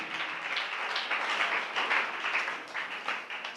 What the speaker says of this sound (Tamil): நல்ல கைத்தட்டி ஆண்டவருக்கு நன்றி சொல்லுவோமா